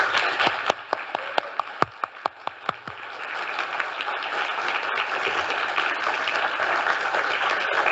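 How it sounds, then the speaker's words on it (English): An audience at a biodiversity data conference begins with several distinct separate claps, then swells into sustained, even applause from a roomful of people, heard at moderate distance. "Could you please give David a particularly warm round of applause?"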